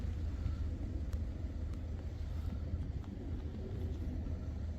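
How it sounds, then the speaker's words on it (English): Police support vehicle passing near Hitchin, a steady low engine rumble carried under constant road and traffic noise, fairly distant and even in level throughout. "I think we've got a police support vehicle"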